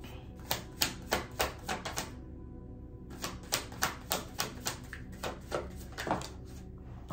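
Rapid, rhythmic clattering bursts of cards being shuffled up close, with a brief pause midway before the riffling resumes.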